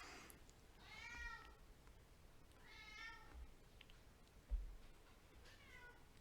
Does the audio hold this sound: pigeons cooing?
no